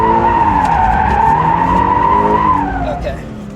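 A 2024 Toyota GR86 sliding through an e-brake drift, its tires letting out a loud, sustained squeal that holds steady for several seconds before tapering off, with engine noise underneath.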